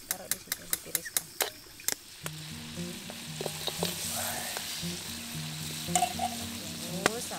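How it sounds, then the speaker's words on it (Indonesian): Chicken pieces frying in melted butter in a home kitchen for Indonesian butter chicken, a steady close sizzle with stirring clacks and utensil taps at the start, and people talking over it. "Tunggu sampai ayam gorengnya kering."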